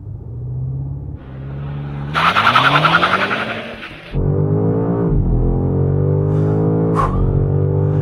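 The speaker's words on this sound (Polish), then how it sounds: "zobaczcie jak za chwilę układ kontroli trakcji sprawi, że ten samochód będzie szukał przyczepności" A new BMW M5 engine revs and climbs in pitch, then a burst of broadband tyre noise and skidding as traction control intervenes, before the engine settles into a steady loud drone.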